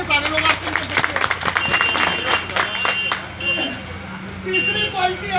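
A seminar audience in Jamuka, Shahjahanpur claps together indoors. The applause is moderately loud and runs under a man's amplified speech before tapering off.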